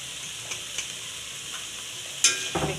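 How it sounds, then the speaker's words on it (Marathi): Spatula stirring a dry dill and moong dal vegetable dish in a pan, soft scraping and light sizzle, with a sharper clack of utensil near the end, no voices. "मिक्स करूया चांगलं।"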